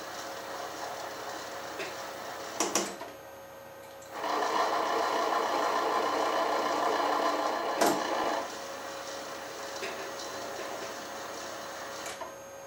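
A power tap cutting threads with cutting oil during a machining job on a sine base, giving a steady mechanical whir for about four seconds between brief clicks and quieter shop hum.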